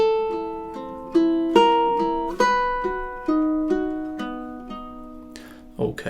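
Measures 7 and 8 of Fernando Sor's Study in B Minor ring out on a solo ukulele, with a dozen or so plucked notes in a gentle, even rhythm and a brief scuffing noise at the end.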